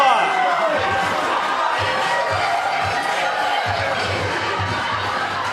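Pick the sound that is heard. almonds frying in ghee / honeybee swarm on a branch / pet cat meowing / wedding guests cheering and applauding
wedding guests cheering and applauding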